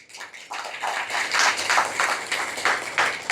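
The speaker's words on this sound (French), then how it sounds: "je vous invite, chers amis, à saluer cet engagement par vos applaudissements" Audience applause after an invitation to salute a commitment at the launch of Vaccination Week of the Americas in Jérémie, with loosely rhythmic claps swelling and fading in bursts, moderately near and steady across the whole stretch.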